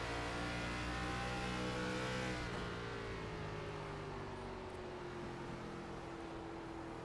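On-board race car engine at New Hampshire Motor Speedway, a loud continuous drone with the driver easing and working the throttle, pitch dipping and settling steadily throughout.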